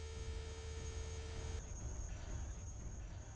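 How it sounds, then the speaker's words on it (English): Damage warning buzzer in MechWarrior 3 as a mech's leg is blown off: a steady electronic tone with low rumbling hum beneath, the buzzer cutting out partway while the low engine drone continues. "That noise is what happens when you get your leg blown out."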